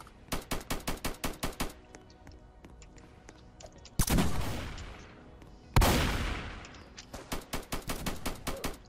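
Repeated rapid gunfire in the Roblox shooter Strucid, with fast bursts of shots at the start and end and two loud blasts that decay slowly in between, all close and sharp, with no talking.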